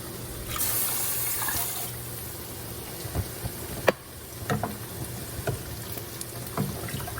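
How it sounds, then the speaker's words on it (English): Water from a tap runs into a cooking pot of lentils for dal in a home kitchen, a steady close splashing stream with a few clinks and knocks of the pot. "I'm gonna add more water than that."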